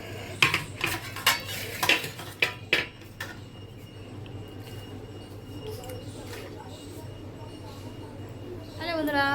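Cutlery clinks against plates during a home meal of meat and rice with chicken, lemon and cucumber, several sharp taps in the first few seconds, then quieter room noise, with a voice briefly heard near the end.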